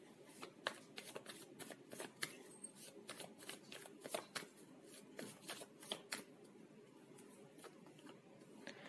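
Tarot cards are shuffled and drawn by hand, a close, soft and continuous riffle of rapid papery flicks and snaps.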